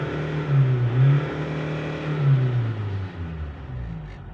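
Ford Everest 2.2 diesel engine with a low-power fault revving at idle in a workshop, two rising and falling pulls of a deep, close engine note before settling back to a steady idle.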